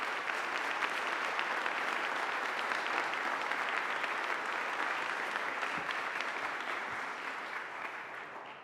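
An audience at a Justice Department commemoration of the Violence Against Women Act's 30th anniversary applauds to welcome the Attorney General, a dense steady clapping from a large crowd that tapers slightly at the end.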